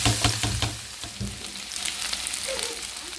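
Vegetables frying lightly in a pan before potatoes go in, a close, even sizzle with soft stirring and scraping sounds, fairly quiet and without talking.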